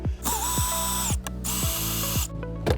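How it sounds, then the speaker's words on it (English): Cordless drill or driver backing screws out of the lower dash panel of a 2019-2023 Dodge RAM pickup, several short motor whines that rise and fall, each ending in a ratcheting clutch, loud and close with no talking. "remove this lower dash panel by removing these two screws here and here"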